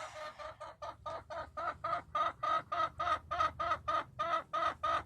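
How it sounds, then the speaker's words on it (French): A roughly five-year-old hen clucking close by in a backyard flock, a steady rhythmic run of about a dozen loud, evenly spaced clucks with no talking. "une belle poule qui a à peu près 5 ans"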